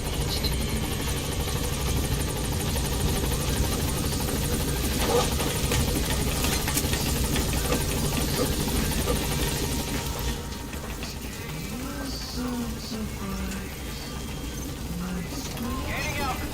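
A helicopter hovers at a landing zone in the video game Metal Gear Solid V, its loud, steady rotor and engine drone running throughout while voices talk over it.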